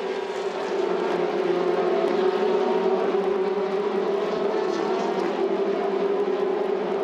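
Formula Renault 2.0 race cars run at the Red Bull Ring, a steady, moderately loud engine whine with a sustained tonal note, heard at a distance with no one speaking.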